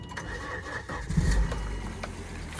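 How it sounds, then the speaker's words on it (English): A 2002 Volvo XC70 Cross Country 2.4T automatic engine cranks and catches, settling into a low rumble, recorded up close with some background hiss. "Let's just start the engine."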